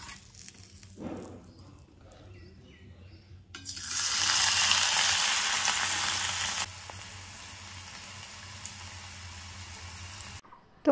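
Food fries in a hot pan with a sudden loud, hissing sizzle that flares up partway through, then settles into a softer, steady crackle before cutting off.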